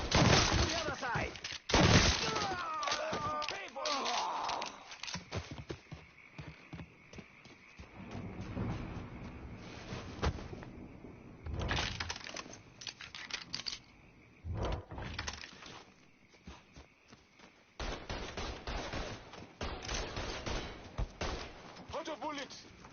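Bursts of game gunfire in Mafia 3 crackle in irregular volleys with sharp impacts and short pauses, mixed with a reload and some in-game shouting over the action.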